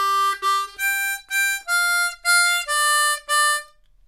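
Harmonica playing the opening line of a beginner 12-bar blues as single notes, eight clean sustained tones in short phrases with brief gaps, close and clear with no talking.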